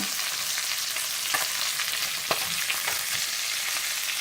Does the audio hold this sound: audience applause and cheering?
no